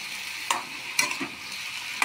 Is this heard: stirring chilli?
yes